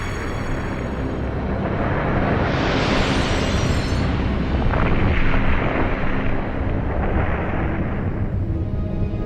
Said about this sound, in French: Une explosion de 100 millions de mégatonnes pulvérise New York.